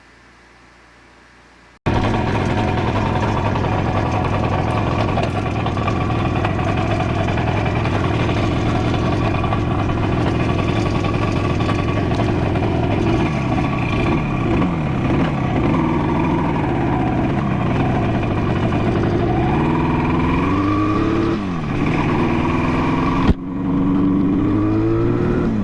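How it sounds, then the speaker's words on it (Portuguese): A 1974 Yamaha RD 350 motorcycle starts up after a short quiet gap. Its two-stroke engine runs steadily and loud up close, with rising and falling revs near the end, then it cuts off briefly and catches again. "tá aí a motoca, voltou a funcionar"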